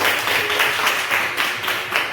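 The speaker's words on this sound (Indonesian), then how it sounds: "Tepuk tangan dulu untuk kalian." A classroom of students applauding, steady dense clapping at a loud, even level for the whole stretch, with no clear talk over it.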